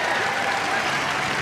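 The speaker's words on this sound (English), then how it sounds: "She gets a cheer from the crowd." A netball crowd at a Jamaica versus Fiji World Cup match lets out a brief burst of cheering and applause, a steady wash of noise lasting only a moment.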